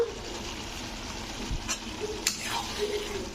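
Paneer fries with ground garam masala in a pan, a low steady sizzle broken by a few scraping stirs and a spoon knock, close and fairly quiet, without speech.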